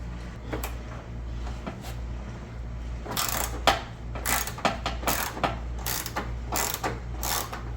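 A ratchet works loose old fasteners on a passenger-side fender of a Nissan R50 Pathfinder during headlamp replacement, giving close, irregular bursts of rapid clicking between short pauses.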